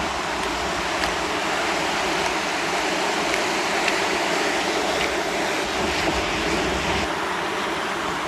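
Sea waves wash continuously onto a deserted beach shore as the tide rises, a dense, steady roar of surf without pauses, loud and close, with no one speaking.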